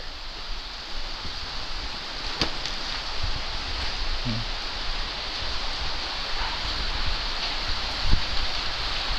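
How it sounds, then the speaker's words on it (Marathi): Heavy monsoon rain pouring down on a Konkan village and its paddy fields, a steady, dense hiss of downpour throughout with a few louder drips and splashes nearby. "पाऊस सुरू झाला की पावल्याला पाणी यायला सुरुवात लगेच."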